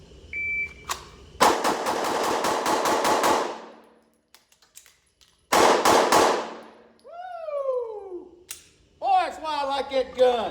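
A Glock 19 Gen 4 compensated pistol fires rapid strings of shots at targets: a fast burst of about eight or nine loud, sharp reports, a pause, then another quick volley. A voice talks toward the end.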